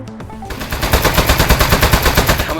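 Rapid, steady automatic gunfire from the video game Aperture Desk Job, loud and close, running continuously after a brief quieter start.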